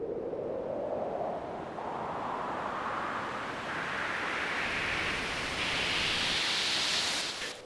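White noise riser for a music buildup, its filtered hiss sweeping steadily upward in stepped rises over about eight seconds, with the low end pulled back; loud and continuous, no voices.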